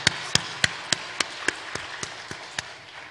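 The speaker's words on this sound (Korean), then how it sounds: "우리 하나님 앞에 감사와 영광의 박수 같이 돌리겠습니다" Congregation in a church clapping together after an invitation to give thanks, heard as about ten sharp, evenly spaced claps at a steady rhythm, fairly faint and slightly distant, with no talk over them.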